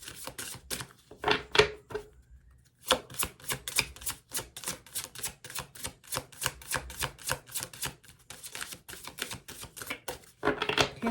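Playing cards being shuffled during a tarot-style reading, a quiet close series of rapid riffling clicks and soft slaps in uneven bursts with short pauses between.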